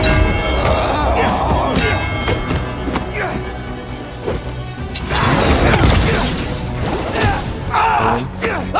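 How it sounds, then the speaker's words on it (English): Bell ringing out in a video game amid clanging and crashing game effects, with someone talking over much of it. "Ring the bell, ring the bell."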